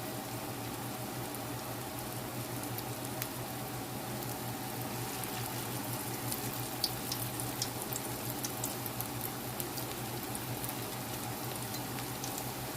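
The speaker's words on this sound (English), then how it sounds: "My grease is hot, so I'm going to start forming my patties and placing them in." Tuna croquette patties fry in hot grease, a steady, close crackling sizzle with scattered sharp pops running evenly throughout, with no talking.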